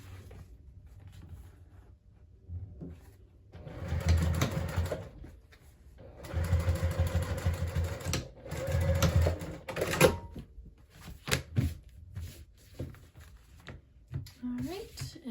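A sewing machine top stitches a crossbody bag in several bursts of steady mechanical running, separated by pauses, with soft handling noises in between.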